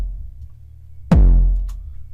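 A single hardstyle kick drum saturated by Camel Crush tube distortion lands hard over a low sustained tone, its distorted body sweeping down in pitch and ringing out in a long, loud tail.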